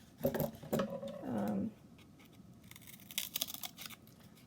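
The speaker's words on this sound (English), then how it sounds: "So I cut a slit there." Scissors cut a slit in cardboard up close: a few quick snips, then one longer scraping cut, followed by quiet handling.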